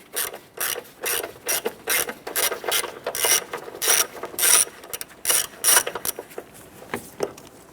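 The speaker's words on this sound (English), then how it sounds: "Using an 8mm socket and extension, we're going to go ahead and remove this bolt here" A ratchet fitted with an 8mm socket and extension loosens the battery hold-down bolt on a 1993-1997 Ford Ranger, clicking in quick, repeated bursts of strokes that are close and fairly loud.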